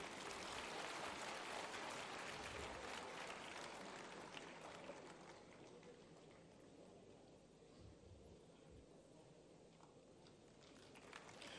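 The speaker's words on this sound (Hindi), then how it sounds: "कृपया तालियां बजती रहें।" Audience applause at a university statue unveiling ceremony in Gwalior, dense and steady at first, then thinning and fading to a quieter sustained patter toward the end.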